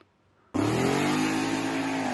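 A drag-racing truck with 4-link suspension roars to life after a brief quiet, launching with wheel spin, revving hard and steady at close range with a rising, gritty drone.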